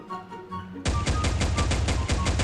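Upgraded USP-2 double-barrel gun firing a rapid, steady burst of loud, punchy shots that begin abruptly after a short quieter stretch of a few tonal notes, each report sharp and close with no pause between them.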